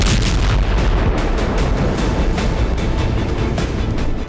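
Artillery fire in the war at Pokrovsk, a dense, continuous wall of deep rumbling booms and blasts, loud and sustained throughout with no voices.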